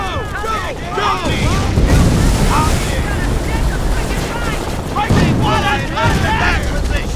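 Gunfire and explosions rage on Omaha Beach in the game Company of Heroes, with loud booms, crackling shots and rushing surf mixed with shouting voices.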